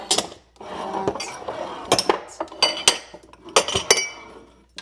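Glasses, cups and a beer mug clink and clatter against each other and a shelf as a kitchen cup cabinet is cleared out, giving a busy run of sharp, close knocks and rattles with no talking.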